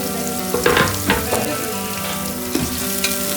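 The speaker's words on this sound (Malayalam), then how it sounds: "നന്നായി നമുക്ക് ഇളക്കാം." Carrot and capsicum stir-fry in a hot pan with a continuous close sizzle, punctuated by several scraping stirs of a spatula at irregular intervals.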